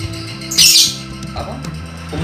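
A young lovebird, recently weaned, gives a loud harsh squawk that dominates the middle of the clip, with faint bird chatter and low background hum around it.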